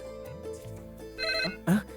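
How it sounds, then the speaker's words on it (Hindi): A phone rings with a tonal, melodic ringtone, short and fairly quiet, with a brief louder burst near the end. "अभी फोन रखो, गीता का फोन आने वाला है"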